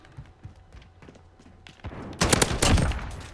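Oden assault rifle fire in Modern Warfare: quiet thumps and footsteps at first, then a loud, sustained burst of rapid gunshots over the final second and a half.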